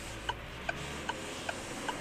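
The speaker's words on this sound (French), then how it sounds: "tu n'aimes pas ce petit tac-tac-tac, le bruit du clignotant" A Peugeot 308 turn signal ticks inside the car, five faint, evenly spaced clicks about 0.4 seconds apart over a quiet background.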